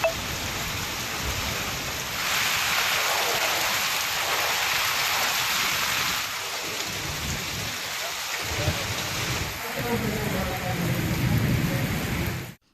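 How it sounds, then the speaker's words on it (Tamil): Moderate rain falling steadily across Madurai during a widespread hour-long shower, a dense hiss of drops on surfaces that continues throughout, with no voices. "திருப்பரங்குன்றம் மற்றும் வில்லாபுரம், அவனியாபுரம், சிந்தாமணி பகுதியில் 1 மணி நேரம் பரவலாக மழை பெய்தது"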